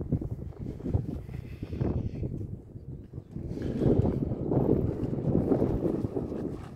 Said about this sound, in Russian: Сегодня ветер, наверное, будет слышно.